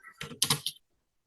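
Quick bursts of keystrokes on a computer keyboard as a PHP artisan migrate command is typed for a Laravel project, close and clear, three short clusters of clicks, then silence.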